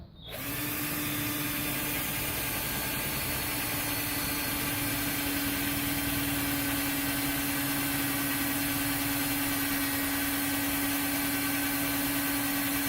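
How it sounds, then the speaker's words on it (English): Power drill boring through a wooden dowel, a steady loud whirring drone that starts abruptly and runs continuously with a constant hum, no talking over it. "Throw that in the drill, put that through the dowel."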